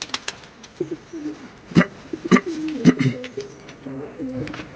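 Low cooing of Andhra and Ablook Dobuz pigeons warbles close by among sharp clicks and brief knocks, with a voice murmuring faintly in the background.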